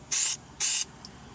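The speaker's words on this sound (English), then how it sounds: "use a little fluid film to spray the brake lines" Two short bursts of aerosol Fluid Film hiss onto the front brake lines of a 1995 Pontiac Grand Am, each lasting about a quarter second, close and loud, separated by a brief pause.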